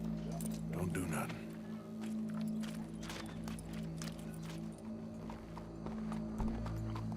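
Horse hooves clip-clop steadily in Red Dead Redemption 2, a continuous rhythmic trot running under game ambience and a low hum, with voices talking over it.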